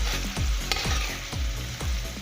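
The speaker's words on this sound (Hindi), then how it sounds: "एक कप खाने का घी लिया है, इसमें 2 मोटी कटी हुई प्याज डाल के इसको अच्छी तरह से फ्राई करेंगे।" Two thick-sliced onions frying in a cup of ghee, a steady bubbling sizzle with rhythmic scraping strokes of a ladle stirring them every half second or so.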